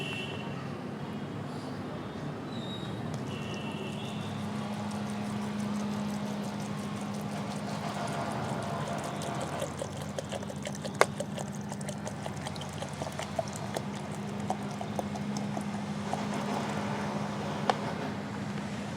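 Water, 1.5 litres in all, is poured into a plastic container while making homemade liquid fertilizer, a steady pouring rush lasting throughout, close and moderately loud, with some talk mixed in.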